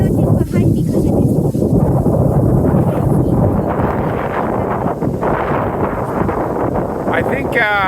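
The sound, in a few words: strong wind blowing at night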